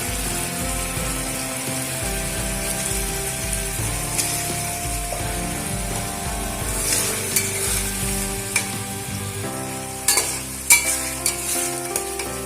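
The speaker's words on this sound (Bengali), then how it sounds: "এবারে এর মধ্যে ভেজে রাখা মাছগুলো দিয়ে দেবো" Fried rohu fish pieces go into a yogurt gravy in a pan, giving a steady close sizzle with stirring and scraping throughout and a few sharp clinks near the end.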